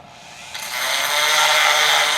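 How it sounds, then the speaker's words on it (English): A Dremel rotary tool spins up and grinds on a metal ignition backing plate from a Suzuki GS550 motorcycle, a close, steady high-pitched whir that rises in intensity after a brief start. "And I'll just do that with my Dremel"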